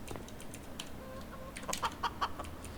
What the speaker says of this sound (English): If I spawn in a chicken